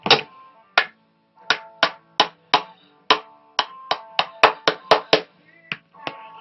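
A hammer taps again and again as a women's pump insole is tacked onto a shoe last, giving sharp, close, uneven knocks with short silences between them. The strikes bunch into quicker runs toward the end.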